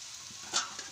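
Tempering spices sizzle briefly in hot oil on a village wood-fired stove while capsicum curry is made. The hiss is soft and close, with one louder spit of crackle midway.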